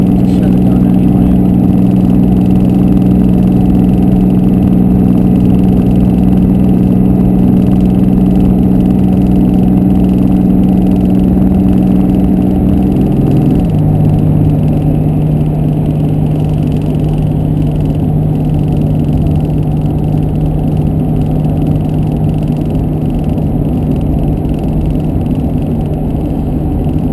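A Cummins diesel truck pulls hard under a heavy load, its loud droning engine holding a steady pitch and then dropping as it shifts down, a continuous close roar with no talk.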